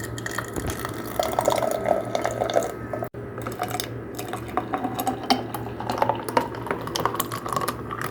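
Melon milkshake poured over ice in a home kitchen, a steady liquid splash with ice clinking, moderately close, running continuously under a low background hum.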